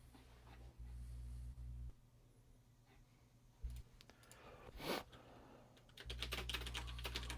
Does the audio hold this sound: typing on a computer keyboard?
yes